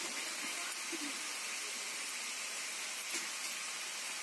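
Two or three green chillies frying in hot oil with black cumin seeds, a steady soft hiss and sizzle throughout, fairly quiet and unbroken.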